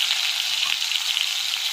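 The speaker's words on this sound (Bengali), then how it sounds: "কড়াতে 2 চামচের মতো তেল দিয়ে দিয়েছি, তেলটা গরমও হয়ে গেছে। এবার আদা আর কাঁচা লঙ্কা বাটাটা দিয়ে দিচ্ছি" Ginger and green chilli paste sizzles in about two spoons of hot oil in a wok, a steady close hiss that holds even and loud throughout with no voices.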